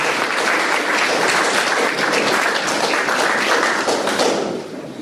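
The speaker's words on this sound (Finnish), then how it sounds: "Kiitokset ja aplodit." Dense applause from a crowd at a sports gala fills the hall, steady and loud throughout, then thins slightly near the end.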